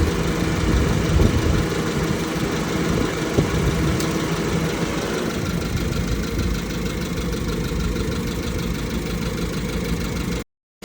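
A 1996 Honda Civic engine idles with a steady, close, even rumble, heard alone for about ten seconds before it cuts off abruptly.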